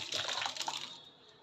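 Cooked chana dal poured from a pot, a brief wet splashing gush that tapers off within a second and a half, close and fairly soft.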